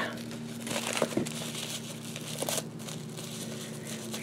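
Crinkly mail packaging is pulled and unwrapped by hand, giving close plastic crackles and rustles in uneven bursts over a steady low hum.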